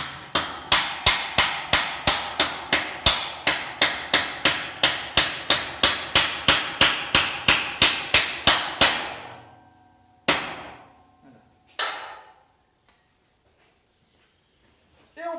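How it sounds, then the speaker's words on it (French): A hammer strikes metal steadily while it is bent into a fold for a homemade bearing puller for a Solex moped, more than two dozen sharp ringing blows close up, then a pause and two separate final hits. "très délicatement, on prend le marteau"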